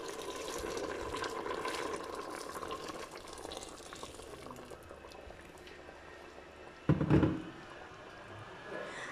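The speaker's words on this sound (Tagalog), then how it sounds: "ibubuhos ko na rin po yung hot water." Hot water is poured into a cooking pot of sautéed beef for manestra, a soft bubbling simmer followed by a sudden louder splash and gurgle as the liquid goes in.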